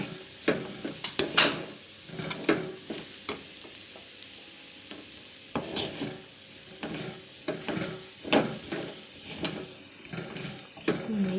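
Egg cabbage podimas sautéed in a pan, with bursts of spatula scraping and tapping against metal over a low sizzle, close, coming in irregular clusters with short quieter gaps.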